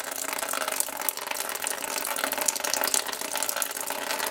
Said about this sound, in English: I gotta lower the coolant level just a little bit so I can solder that